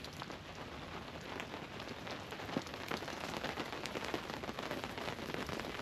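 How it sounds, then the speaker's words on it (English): Steady rain falls at Stone Mountain, drumming evenly on surfaces with scattered nearby drips, moderately loud and unbroken, with no voices. "Got up here and it rains."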